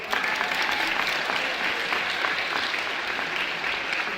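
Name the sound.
audience applause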